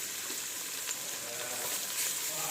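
Onions and green chillies sauté in a pan for tomato rice, giving a steady, close hiss and sizzle with faint stirring scrapes and no voices.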